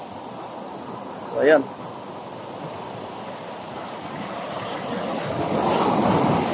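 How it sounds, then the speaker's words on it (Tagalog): Strong post-typhoon waves wash continuously against the shoreline of Baliguian, Zamboanga del Norte, a broad steady roar of surf that swells louder toward the end, mixed with wind on the microphone and a short spoken remark early on. "Malalakas yung alon."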